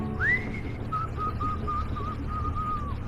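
A person whistles a short tune, a quick upward slide and then a held, slightly wavering melodic line, clear and alone over faint background noise.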